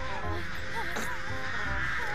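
Summoned crows in the Dead by Daylight video game caw harshly several times over a continuous game soundscape, fairly close, with faint player voices underneath.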